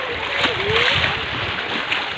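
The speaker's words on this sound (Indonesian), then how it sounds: "Ombaknya yang terlalu tinggi di sini, teman-teman ya, gelombangnya." High waves on Lake Ranau splash and churn around a small boat in a continuous rushing wash close by, with a voice briefly audible underneath.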